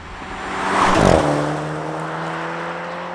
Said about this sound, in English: The exhaust isn't too obnoxious. It makes just enough of a burble to remind you that, yeah, this is a quick little car.